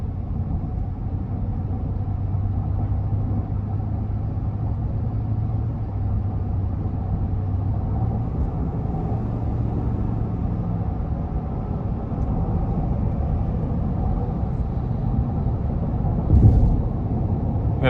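Steady low rumble of road and engine noise inside the cabin of a 2021 GMC Yukon SLE cruising on the road, constant and even throughout, with a brief bump near the end.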